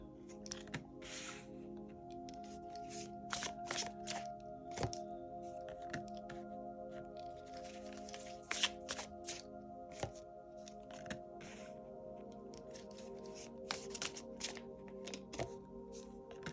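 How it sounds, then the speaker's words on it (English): Quiet tarot card shuffling, soft papery riffles and taps repeating in irregular bursts, close by and faint, with no talking. "I am going to shuffle them up."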